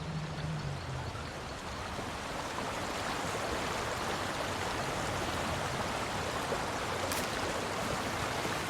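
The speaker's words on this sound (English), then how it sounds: "That's definitely the waterfall." Steady broadband rush of a waterfall in the video game Elder Scrolls Online, a continuous even roar of falling water heard up close with no talk over it.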